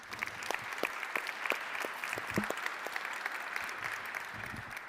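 A conference plenary audience claps to welcome a guest speaker joining the stage, a dense, even round of applause at moderate distance, with faint murmuring underneath.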